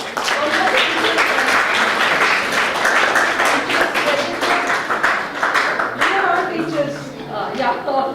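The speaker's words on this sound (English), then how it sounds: "A lot of applause for the teachers." Teachers at an inter-college commerce competition receive loud, close applause from students and guests, with sharp individual claps standing out from the crowd and faint voices underneath as it begins to thin toward the end.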